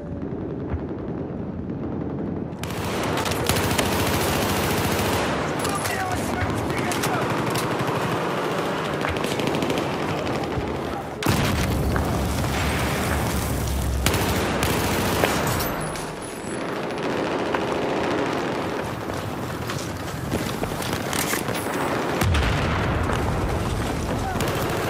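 Dense gunfire in Battlefield 4: loud, sustained automatic bursts rattle almost without pause, with a brief lull partway through and booming impacts mixed in.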